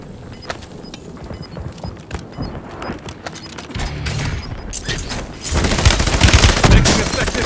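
Rapid bursts of gunfire from a Kar98k sniper rifle and Kilo 141 assault rifle in a Call of Duty Warzone final circle, repeated shots rising to louder, denser firing near the end.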